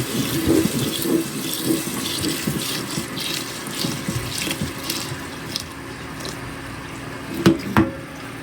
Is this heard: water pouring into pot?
yes